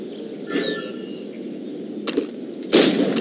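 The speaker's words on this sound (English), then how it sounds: "Shoot these targets" A couple of sharp gunshots at targets in the video game Assassin's Creed Rogue crack out one after another over a steady ambient background, the second louder, with a faint whistling tone earlier on.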